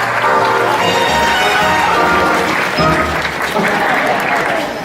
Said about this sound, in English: Give them both a huge round of applause.